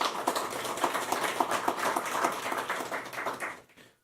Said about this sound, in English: I really want you to give yourselves a round of applause